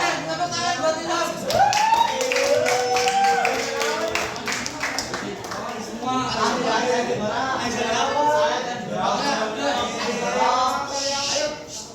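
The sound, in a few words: classroom applause for Ilham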